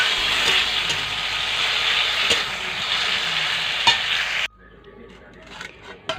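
Chutney cooking in a pan in a home kitchen makes a steady close sizzle with occasional utensil clicks. It cuts off abruptly to a much quieter, sparse background with a few small clinks.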